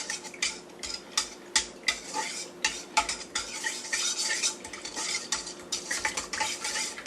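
A butter knife clinks and scrapes against a bowl while stirring a yeast roll dough mixture, irregular metallic taps and swishes at close range with no talking.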